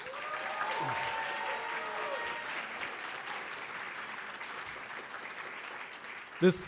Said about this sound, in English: If we could give her a round of applause, please.